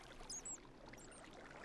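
Flowing water in a blocky block-building farming game, a steady soft trickle running alone throughout, with a couple of brief higher chimes near the start.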